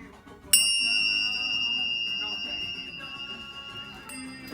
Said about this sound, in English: Tibetan bells.